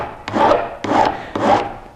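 A file rasps along the edge of sign material at a 45-degree angle, three even, rhythmic strokes close by with no voices.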